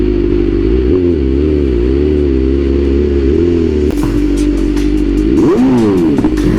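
A BMW M1000RR motorcycle rides along a dirt road, its engine droning loudly and steadily up close, with wavering pitch, then a rev swell and some clattering toward the end.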